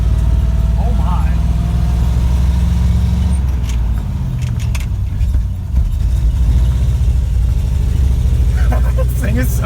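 A 1967 Chevrolet C50 dump truck drives slowly down the road in low gear, its engine a steady low rumble throughout with some shifts in tone, close and loud, with people talking over it.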